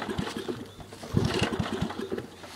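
A Suzuki RM dirt bike engine sputters and revs unevenly in a backyard, with a close, throbbing pulse that rises and falls before it dies out, and no voices over it.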